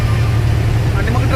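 Traffic is jammed on the Khandala ghat road, with car and truck engines idling close by in a dense, steady rumble under talking.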